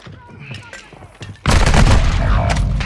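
Loud sustained burst of video game gunfire from a battle royale match on Ashika Island, bursting in sharply halfway through after quieter scattered shots, with players talking over the action.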